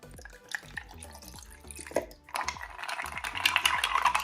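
Lemonade is poured over ice into a cocktail shaker. Faint clinks of ice come first, then a trickling, splashing pour grows steadier over the final two seconds, close and quiet.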